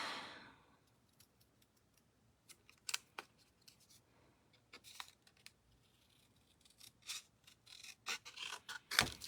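Scissors snip through card stock at close range in a quiet room, a series of short crisp cuts that come sparsely at first, then quicken into a denser run of snips near the end.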